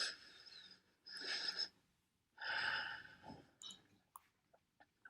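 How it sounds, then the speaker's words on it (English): Slow, deep breathing close to the mic: a long inhale, a pause, then a longer audible exhale, followed by a few soft clicks and small mouth noises. "Just take a deep breath."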